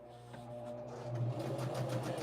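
A sewing machine stitching the sides of a Hidden Walls quilt block runs in a steady, close, rapid mechanical hum with regular ticking, heard alone for a couple of seconds.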